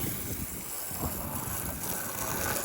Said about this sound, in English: So it's quite windy today